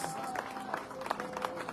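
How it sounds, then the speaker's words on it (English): A church congregation claps hands in praise at a thanksgiving service, a dense spread of many hands clapping together at moderate distance, brief and steady throughout. "will you clap your hands to Jesus for the gift that he has given us?"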